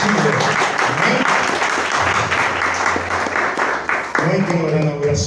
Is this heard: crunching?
no